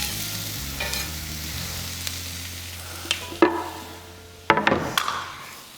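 Onions frying in a pan on a stove for a gourmet grilled cheese, a soft low sizzle under occasional sharp clicks and knocks from utensils, no voices.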